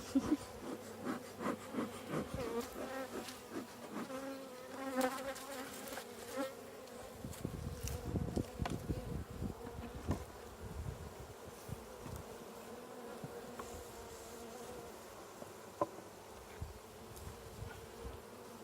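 A dense, steady buzz of many bees fills the air during a beekeeping hive inspection, close and continuous, with occasional rubbing and handling noises over it.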